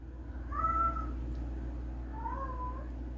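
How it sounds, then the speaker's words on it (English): A pet cat meows twice indoors, a drawn-out mew followed by a second one after a pause, both fairly faint over a steady low background hum. "And don't listen to my crazy cat."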